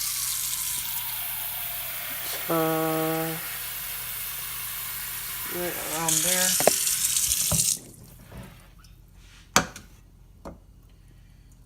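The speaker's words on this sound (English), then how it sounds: "So you're going to fill your pot." Tap water runs steadily into a cooking pot being filled for ramen, the flow starting and stopping a couple of times, followed by clinks and handling sounds, with a brief tone and a few spoken words.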